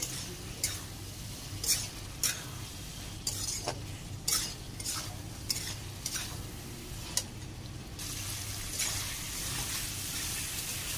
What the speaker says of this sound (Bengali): এবার এর মধ্যে ভেজে রাখা আলু আর ওলগুলোকে দিয়ে দেবো, দিয়ে ভালোভাবে কষিয়ে নেব এইগুলোকেও